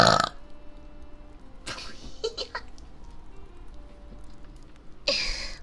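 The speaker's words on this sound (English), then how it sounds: "I'm gonna burp." A single loud, close burp at the very start, followed by quiet room tone with scattered faint noises and another short broadband burst near the end; there is no talk.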